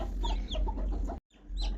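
Brahma and silkie chicken chicks on a farm cheep and peep close by in quick, high, overlapping chirps, broken by a brief silent gap before more cheeping.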